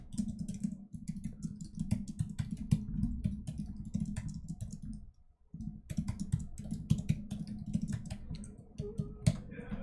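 Close-up clatter of fingers typing on a computer keyboard, rapid uneven key clicks in bursts with a brief pause midway.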